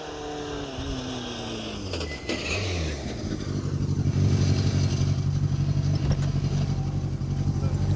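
A rally car powers through an asphalt stage of the R Kings Down Rally, brakes smoking as it nears the finish. The engine note drops as the car brakes, then swells into a loud, close, sustained roar.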